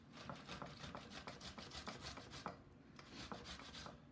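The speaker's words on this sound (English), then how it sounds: "So I grate all the tomatoes." Tomatoes are rubbed against a grater for pan con tomate. The quiet, rhythmic rasping strokes repeat steadily and close by, without speech.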